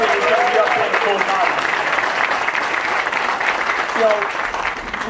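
An outdoor audience at a high school groundbreaking applauds in a dense, steady round of clapping that lasts the whole stretch, with faint voices underneath.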